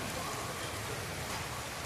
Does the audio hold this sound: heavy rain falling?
yes